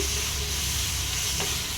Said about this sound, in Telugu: వేసుకున్నాక ఇవి మంచిగా ఫ్రై అయ్యాక దీంట్లోని మనం ఇందాక పట్టి పెట్టుకున్నాం కదా ఆనియన్ పేస్ట్ అది దీంట్లోనే వేసేయాలి